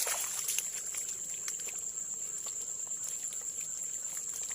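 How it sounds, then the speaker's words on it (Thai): Water trickles steadily through a narrow channel, a soft continuous babble with a faint high insect-like whine over it. "นี่ครับช่องน้ำไหลแบบนี้ครับ"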